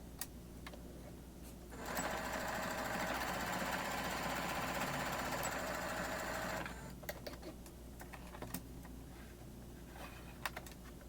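Sewing machine stitching throw pillow fabric, a fast steady whirring run of about five seconds, close and loud, framed by quieter handling clicks and taps before and after.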